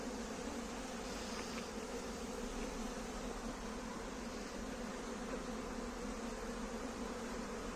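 A swarm of honeybees, arrived on its own and being caught by a beekeeper, hums in a dense, even buzz that holds steady and fairly faint the whole time.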